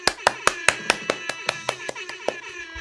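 A small group claps in a quick, uneven burst of about a dozen sharp hand claps to welcome a special guest, close and fairly loud, with a faint voice underneath.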